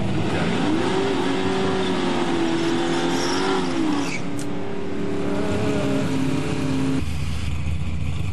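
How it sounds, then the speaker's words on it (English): A heavy 3,550-pound drag race car launches hard on nitrous, its engine note climbing and holding a loud, sustained roar before cutting off near the end, alone without talk. "Another nitrous run."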